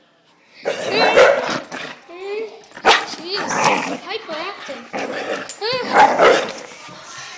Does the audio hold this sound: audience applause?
no